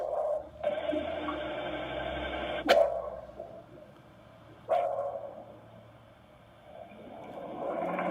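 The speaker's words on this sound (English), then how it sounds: "a dog bark, and 41, a dog bark" A dog barks twice on a played-back recording, two sharp separate barks a couple of seconds apart over a steady electronic hum, with no speech.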